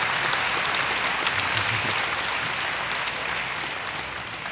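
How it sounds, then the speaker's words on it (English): Steady applause from a sizable crowd at the Minecon 2013 convention, dense clapping that holds throughout and fades slightly at the end. "So give an applause for Ryan."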